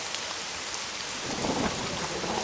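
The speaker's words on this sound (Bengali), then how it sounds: "মাঝরাতে ঘুমের ঘোরে শুনি বৃষ্টি হচ্ছে" Steady rain pours down with a low rumble of thunder swelling briefly partway through, all fairly soft and continuous.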